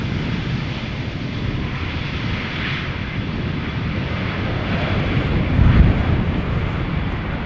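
A fixed-wing airplane roars steadily at Schiphol Airport during landing, a broad sustained engine rush with wind buffeting, swelling slightly louder near the end.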